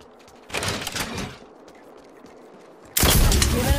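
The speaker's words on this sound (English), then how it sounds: "Opening fire on the enemy." Gunfire in Apex Legends: a loud burst of rapid shots in the first second, a quieter lull, then a second heavy barrage near the end, with no talk.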